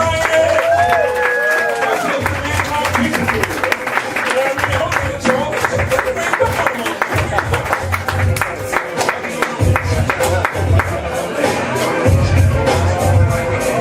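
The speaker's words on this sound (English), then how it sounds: "Give a round of applause for my brother." A crowd at an open mic poetry night at a cafe claps and cheers, sustained applause with whoops over a low rumbling background, loud and close throughout the stretch.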